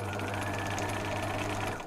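Stitching a gift label, a sewing machine runs in one short, continuous burst of rapid, even needle rattling, close and loud, slowing just at the end.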